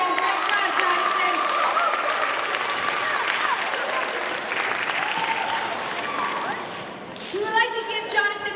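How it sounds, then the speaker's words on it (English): Sustained clapping from an audience at a school Black History Month stage event fills the room before fading, and a voice starts speaking near the end. "Let's give another round of applause to Jonathan."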